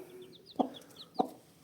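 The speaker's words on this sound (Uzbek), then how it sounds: "jo'ja onasi bilan sotiladi." A hen clucks twice in short, evenly spaced bursts while her chicks peep softly in the background, close and fairly quiet.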